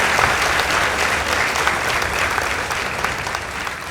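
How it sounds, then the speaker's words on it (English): Steady applause from a large audience at a girls' high school debate, dense and continuous clapping filling the whole stretch without a break. "A round of applause for them."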